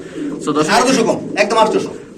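Pigeons coo in soft, rolling bursts close by at a pigeon seller's stall, with a voice mixed in among the calls.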